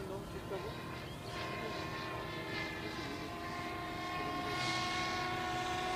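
RC model Cessna 337 aircraft engine droning steadily and loudly close by, a continuous buzzing whine with faint voices underneath.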